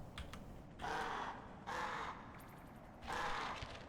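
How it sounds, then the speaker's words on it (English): Birds caw in the video game Animal Well, three loud harsh calls spaced about a second apart, each lasting roughly half a second, with no talking over them. "Birds."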